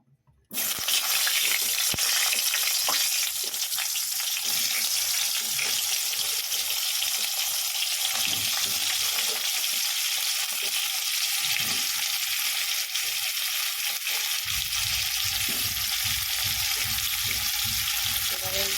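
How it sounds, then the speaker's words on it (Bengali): Cauliflower florets frying in hot oil in a pan give a loud, steady sizzle that runs throughout, with stirring noises mixed in. "এ দেখো এবার ফুলকপিগুলো আমি ভেজে নেবো"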